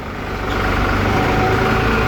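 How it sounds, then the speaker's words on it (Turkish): A red tractor baling hay in a field gives a steady, loud engine drone that grows slightly fuller after the first moments and continues without talk. "Şurada kırmızı traktör balya yapıyor."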